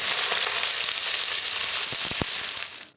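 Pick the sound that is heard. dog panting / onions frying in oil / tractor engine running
onions frying in oil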